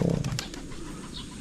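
Breeder pigeons cooing: a low, soft coo close by at the start, then quieter bird sounds and a faint rustle of wings, with no one speaking.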